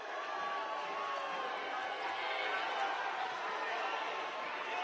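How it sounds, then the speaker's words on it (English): A Milford high school volleyball playoff crowd against Taunton in the second set, a steady wash of chatter and cheering that swells slightly, heard at a moderate distance with no clear individual voices. "The decibel level rises from the Milford crowd."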